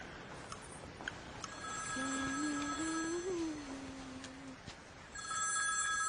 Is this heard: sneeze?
no